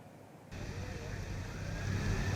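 Pope Francis's white Innova Zenix car passes in a motorcade at Bundaran HI, Jakarta: road and engine noise starts suddenly and builds into a steady, close rush of traffic.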